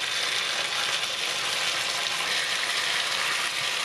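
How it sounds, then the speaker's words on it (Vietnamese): Chicken thighs fry in butter in a pan, making a loud, dense and steady sizzle that runs without a break, close up and with no talking. "Nhớ là mình sẽ chiên cho đến khi mình thấy nó vàng"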